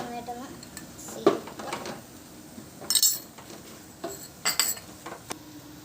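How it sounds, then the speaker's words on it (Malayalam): Kerala crab roast stirred with spices in a pan, with a spoon scraping and clinking against the metal in irregular bursts over a soft low sizzle. "നന്നായിട്ട് ഇളക്കി കൊടുക്കാം"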